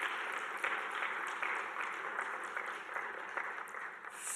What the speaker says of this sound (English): Another round of applause for you all.